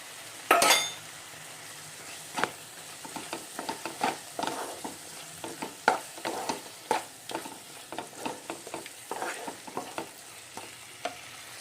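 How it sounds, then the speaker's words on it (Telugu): Prawns with sorrel leaves cooking in a pan for an Andhra-style curry, a soft sizzle under repeated scraping strokes of a spoon and metallic clinks, close and irregular. "ఇప్పుడు మనం రొయ్యలు వేసేసి కొంచెం వాటర్ వేసుకుందాం."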